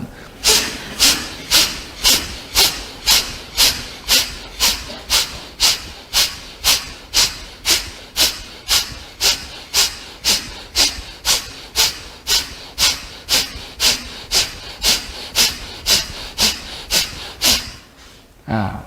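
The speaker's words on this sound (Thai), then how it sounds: "หายใจเข้าเต็มที่" Deep breathing during a guided breathing-balance exercise: a steady run of around thirty sharp, hissing breaths repeats at a quick, even pace, close and loud, with no talking, before a brief pause and one more breath at the end.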